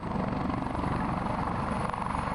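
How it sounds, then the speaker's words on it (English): A U.S. Coast Guard rescue helicopter's rotor thumps steadily and loudly with a continuous engine drone, close and unbroken. "this is the kind of helicopter those crew members from the U.S. Coast Guard used to rescue that runner"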